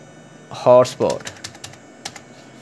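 A computer keyboard is tapped while a name is typed in: a short voice comes first, then a scattered run of light, close key clicks.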